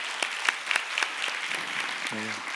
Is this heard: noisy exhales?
no